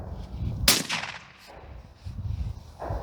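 A single gunshot muffled by a Dead Air Sandman-S suppressor cracks out sharply, then its boom trails off into a quiet outdoor background.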